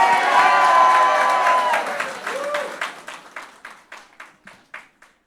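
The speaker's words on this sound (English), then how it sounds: "Give him a round of applause" A crowd applauds and cheers as Guyana's newly re-elected president arrives at a meet-and-greet, loud dense clapping that thins out into a few scattered, spaced claps near the end, with some voices mixed in early.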